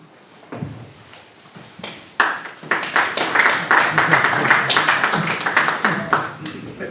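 Audience in a hall breaks into applause after a quiet, scattered start, building into steady dense clapping that stays loud to the end.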